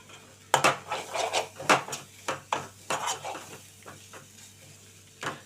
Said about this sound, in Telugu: పచ్చి వాసన పోయేంత వరకు వేయించుకుందాం.